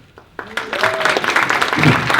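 A conference audience breaks into applause that starts with a few claps and quickly swells into steady, loud clapping.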